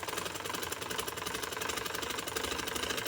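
A sewing machine stitches a neckline in a rapid, even mechanical chatter, close and steady throughout with no pauses or voices.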